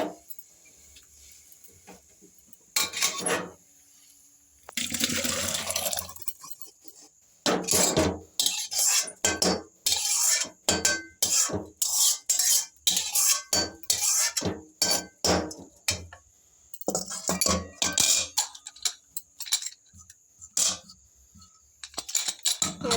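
Ingredients go into a pressure cooker with irregular bursts of metallic clinks, taps and scraping from pots and utensils, close and busy with short pauses between clusters.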